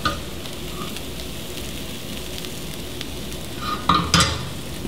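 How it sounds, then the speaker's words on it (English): Vegetables sautéing in a hot pan, a steady close sizzle with stirring scrapes throughout and a couple of louder clatters near the end, no voices. "So just saute this for a couple minutes and keep it moving around."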